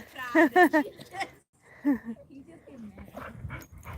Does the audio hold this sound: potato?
no